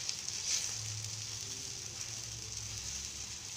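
A gram flour chilla sizzles on a hot pan, a steady close crackling hiss with faint pops, uninterrupted and without talk.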